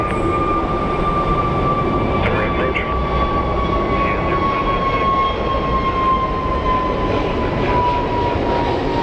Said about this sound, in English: And we have our plane that's going to be headed to Minneapolis very soon.